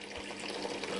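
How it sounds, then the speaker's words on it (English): A liquid mixture pours steadily into a container up close, a brief rushing, splashing stream heard on its own. "Now we pour this horrible mix into the container."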